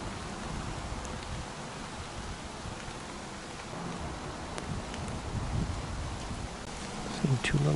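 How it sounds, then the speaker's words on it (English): Rain falling hard outdoors near a cornfield, a steady hiss of drops on leaves and surfaces that continues evenly throughout, with a few faint clicks near the end. "It's been raining pretty hard. Still raining a little bit."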